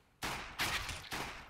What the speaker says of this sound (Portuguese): o Xerxes consegue escapar dos primeiros tiros, mas o Makelele acerta uma bala varada nele